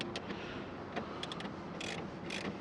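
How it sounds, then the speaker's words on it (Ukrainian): Ratchet wrench unscrewing a headlight fastener on a Renault Megane 3, quick bursts of close, crisp clicking in short runs against a quiet background. "Я беру, використовую таку от трещоточку"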